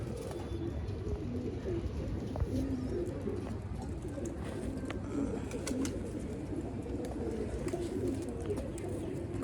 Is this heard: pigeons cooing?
yes